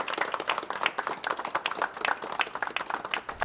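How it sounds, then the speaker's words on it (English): A small group in a culinary school kitchen applauds new chef graduates, a brisk, dense patter of hand claps that holds steady and close for a few seconds. "Guys, a round of applause."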